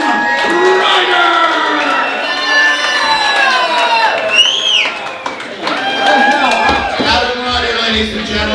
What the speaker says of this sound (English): Give that man the applause he deserves.